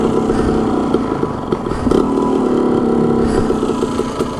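A motorcycle engine idles steadily close by, running rich at high elevation, a continuous mid-pitched rumble with slight uneven pulses and no talking.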